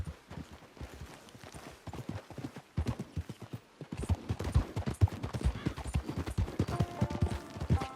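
Horse hooves clip-clop in a steady rhythm as riders travel in the Red Dead Online video game, faint at first and then louder and denser as more horses join.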